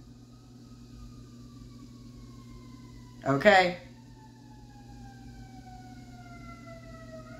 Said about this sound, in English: Y'all hear these fire trucks?